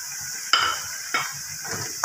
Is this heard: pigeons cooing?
no